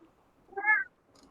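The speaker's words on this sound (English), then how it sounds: "Why are you screaming at me, Cat?" A house cat gives one loud, drawn-out meow in the middle of a quiet room, with faint background noise before and after and no speech over it.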